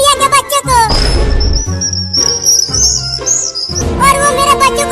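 Small birds chirp in loud, bright bursts over a busy outdoor scene from a desi comedy sketch, with a long high whistling call in the middle and a thick mix of other sounds underneath.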